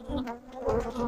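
Agitated honey bees buzz loudly at an opened hive with honey exposed, a steady close swarm drone that swells and wavers for about a second with no talking.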